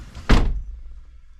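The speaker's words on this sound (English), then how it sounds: "Let me shut this door." A car door on a Hyundai Elantra swings shut with a single solid thunk, close and loud, followed by a short low rumble as it settles into quiet.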